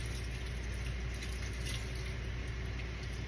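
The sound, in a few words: rinse water being poured off rice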